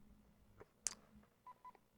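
A telephone keypad is dialed by hand. One loud tone is followed by several short, evenly spaced beeps, all quiet against faint background noise.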